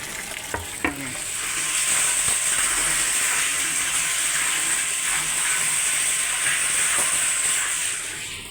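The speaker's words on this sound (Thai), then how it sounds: "จุ่มลงไปดูดนะ เพราะปั๊มตัวนี้มันดูดได้ต่ำสุดถึง1เซนเลยนะ" A submersible pump dipped into a household tap-water storage tank draws up murky water near the bottom, giving a steady, fairly loud hissing, slurping rush that holds after a few knocks at the start.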